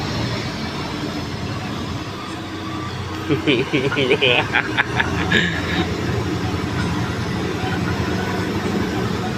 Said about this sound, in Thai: รถพ่วงมา รถพ่วงยังเข้าได้แสดงว่าไม่ธรรมดา